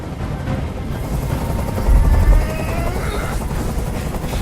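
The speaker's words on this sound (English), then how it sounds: "I can't stand that noise anymore. Tell that helicopter to get out of here." Continuous helicopter rotor thumping and whine in the video game Detroit: Become Human, fairly close and loud, swelling briefly in the middle.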